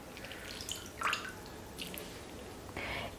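Water drips and trickles from squeezed spinach leaves after a cold-water soak, a few faint, soft splashes scattered over a quiet background.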